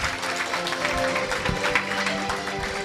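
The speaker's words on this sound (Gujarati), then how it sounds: "બોલો, તાળીઓને હકદાર છે કે નહીં?" Audience at an award ceremony breaks into steady applause, a dense wash of hand claps that holds at moderate volume for a few seconds with some crowd murmur mixed in.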